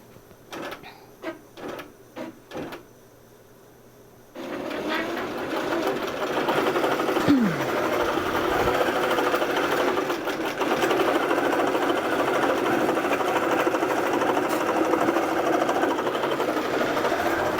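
Sewing machine stitching pressed fabric strips for a scrap strip quilt, running steadily and continuously at close range after a few brief clicks at the start.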